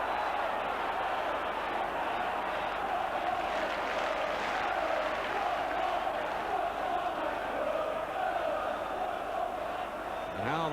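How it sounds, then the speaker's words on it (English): A football crowd at a Spurs v Newcastle United match roars steadily and loudly for the whole stretch, with chanting swells and voices mixed into the din. "And how the crowd are enjoying this"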